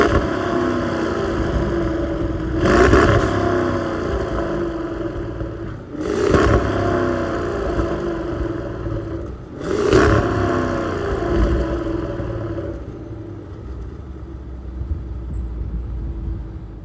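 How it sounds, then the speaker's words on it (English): A 2019 Cadillac CT6-V Blackwing's twin-turbo V8 blips three times in sharp revs spaced a few seconds apart, each rising and falling back to a rumbling idle, heard close through its quad-tip exhaust. "So let's hear this Blackwing engine sing."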